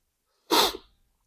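A single sharp sneeze from a man with the flu bursts out close by, a quick explosive rush of breath that fades within half a second, with silence before and after.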